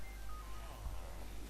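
Telephone dialing tones, steady beeps running through the whole short stretch at a moderate level, with a low hum underneath and no talking.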